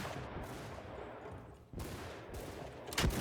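Musket volley gunfire in the Shokuho video game, a samurai battle with ranks of gunners firing, heard as a sustained crackle of shots with a louder, sharper blast near the end.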